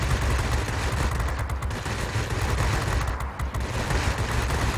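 Spitfire V machine guns in World of Warplanes fire in a loud, dense, continuous burst with rapid overlapping reports, close and unbroken for the whole stretch.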